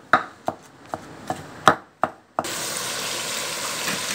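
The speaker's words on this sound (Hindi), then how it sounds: "हम इसको अच्छे तरीके से पीस लेंगे, हमने इसमें दो से तीन हरी मिर्चें भी डाली थी" Spinach with two to three green chilies ground in a kitchen grinder: a series of sharp knocks and taps, then a steady loud whirring roar that runs to the end, with no one speaking.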